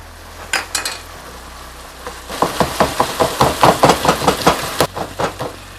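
A spatula chops and stabs at ground meat sizzling in a frying pan, a fast run of close, rhythmic scraping taps over a steady crackle.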